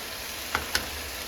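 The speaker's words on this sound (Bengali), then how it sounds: "পালং শাক রান্না হচ্ছে।" Spinach curry sizzles as it cooks in a pan, a steady close frying hiss broken by two brief louder spatters or stirring clicks.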